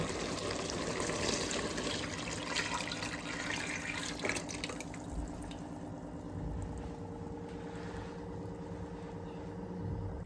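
Water pours and trickles steadily into a pot of Telangana-style sambar with cooked dal, tomato and vegetables, a continuous close splashing flow with no voices.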